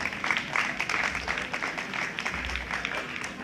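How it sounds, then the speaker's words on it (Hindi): Applause from a seated audience at a poetry mushaira gathering in Bahawalpur: a steady wash of many hands clapping together, moderately loud and sustained, with no talk over it. "वो पूरी टीम जो है उसके लिए दिल से एक बार तालियां बजाई है"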